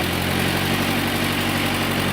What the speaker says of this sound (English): He's gonna crank it up for me, guys.